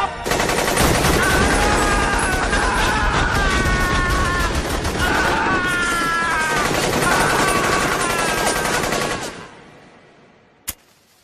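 Rapid, sustained gunfire from an anime action scene in GetBackers, a loud dense barrage with shrill tones riding over it for about nine seconds, then silence broken by one sharp crack.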